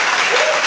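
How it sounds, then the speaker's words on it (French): A church congregation bursts into loud, dense applause, a short, steady wash of clapping hands filling the room. "Acclame très fort pour le Seigneur."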